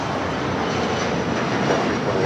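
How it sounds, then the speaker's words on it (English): A JSX Embraer ERJ 135 LR jet takes off at LAX, its engines a loud, steady, continuous roar with no voices. "This is JSX 321 taking off to Las Vegas on the ERJ 135 LR."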